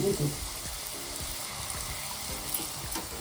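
Pooris frying in hot oil for paakam poori make a steady crackling sizzle with soft bubbling, close by, while a few low thuds and faint voices sit under it.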